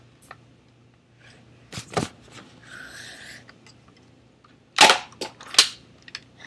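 A toy Nerf bow fires at a TV indoors, giving a pair of sharp, close snaps near the start and another cluster of louder cracks later, with a brief scraping rustle between them.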